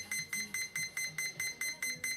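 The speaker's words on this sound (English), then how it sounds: "Don't worry about the beeping." A radio-control transmitter beeps while binding to a model plane, a regular electronic beeping, about four beeps per second, repeating steadily and quite faint, with no talking.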